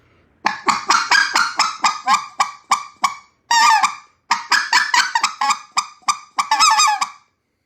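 A goose call sounds close and loud, blowing a string of quick clucks broken by two longer two-note yodels that break from low to high.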